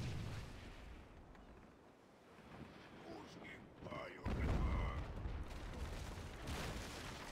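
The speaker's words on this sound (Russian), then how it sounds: "Они бомбы скидывают тоже." Bombs and cannon fire boom in the pirate ship naval battle game World of Sea Battle, a rumbling barrage that builds to a heavy loud blast midway and keeps rolling on with continuous low explosions.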